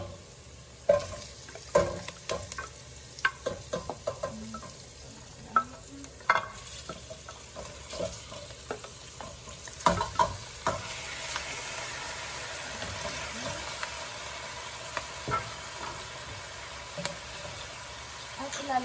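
Meat for kare-kare sizzles in a hot pan while being stirred, with scattered scrapes and knocks of the utensil over a steady low frying hiss.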